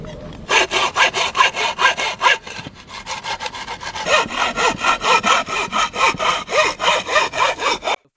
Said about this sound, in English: The saw slices through dense brick.